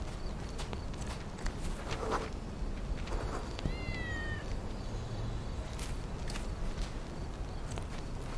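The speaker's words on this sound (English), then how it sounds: "Cat? A kitty cat." A cat meows in a Sherlock Holmes detective video game, one short rising-falling call over a steady outdoor ambience with faint footstep-like taps, fairly quiet and without speech.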